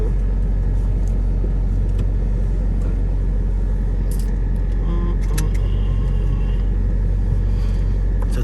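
Straight-piped Dodge Durango SRT engine heard from inside the cabin, a loud continuous low rumble of the SUV pulling in track mode, steady and close with little variation, no clear talk.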